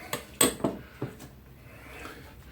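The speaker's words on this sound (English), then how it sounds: "you just mix that up good till everything's nice and coated. You stir that up real good." Tuna salad with relish being stirred in a bowl, a few sharp clinks and scrapes of a utensil against the dish in quick succession, then fading to quiet room tone.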